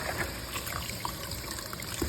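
Cold tap water runs steadily over rice being rinsed, a continuous trickling stream at moderate loudness throughout, with no voices.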